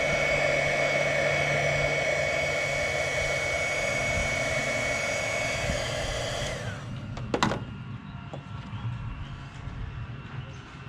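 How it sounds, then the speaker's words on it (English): A heat gun blows a steady, loud whooshing hum at a Ford Ranger truck's rear emblem for about seven seconds, then cuts off, followed by a sharp click and quieter ambient noise. "we'll start working on that with a heat gun and a screwdriver"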